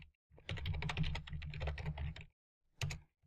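Quick bursts of typing on a computer keyboard, a rapid run of clicks for about two seconds, a pause, then a short final flurry, close and clear.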